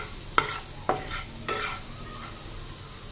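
Onion, garlic and chili fry in a pan, a quiet soft sizzle with three distinct stirring scrapes early on, then a steady low frying hiss with no talking.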